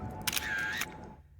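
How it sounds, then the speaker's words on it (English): A single camera snapping a picture inside a cave in an animated scene: a crisp shutter click and whirring mechanism followed by a second click, close and fairly quiet over a low steady hum. "Take a picture of the sound, Stephen."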